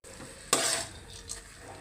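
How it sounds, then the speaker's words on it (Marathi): Fenugreek leaves and vegetables are sautéed and stirred in a pan, with a sudden burst of sizzling and scraping midway that fades to quieter stirring and a soft clink of utensil against the pan, no voices. "भाज्या अशी परतून घ्यायची"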